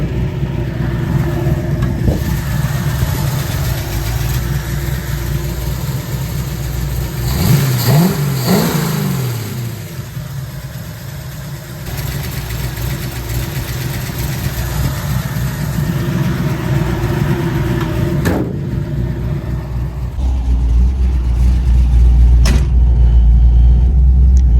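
Carbureted car engine running rough, a loud, close idle with an uneven stumbling throb, one rising rev in the middle and a heavier low rumble near the end, with no talk.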